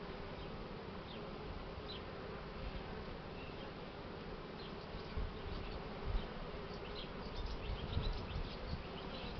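Honeybees buzz steadily around open hive frames while a swarmed colony is divided, a dense continuous drone with a few slightly louder passes close by.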